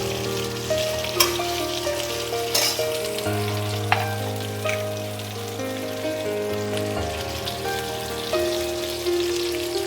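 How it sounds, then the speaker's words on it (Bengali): Vegetables for a Bengali veg teheri fry steadily in an oiled pan, a constant dense sizzle with a few sharp clicks of a utensil against the pan, close and continuous with no talking. "দিয়ে আমি এগুলোকে একটু ভালো করে ভেজে নেব"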